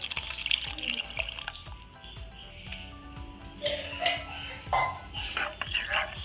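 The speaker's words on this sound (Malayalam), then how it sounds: "അര ഗ്ലാസ് പരിപ്പ് വേവിച്ചിട്ടുണ്ട് അത് ഈ കറിയിലേക്ക് നമുക്ക് ഒഴിച്ചു കൊടുക്കാം" Half a glass of cooked lentils (dal) slops and gurgles wetly as it is poured into a curry in a pot, with intermittent splashes and a few clinks.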